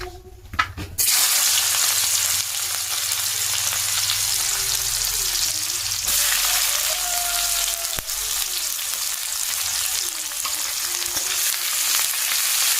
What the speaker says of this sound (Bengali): এবার অ্যাড করব পেঁয়াজ লঙ্কা কুচি।